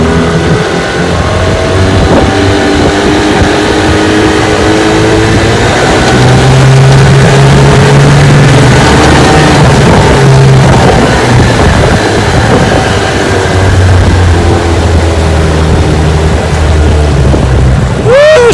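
A 1969 18 HP Evinrude Bayou outboard motor running on a boat out on the water, with a loud, steady engine drone and a faint low hum, slight swells in pitch as the throttle shifts, continuous throughout.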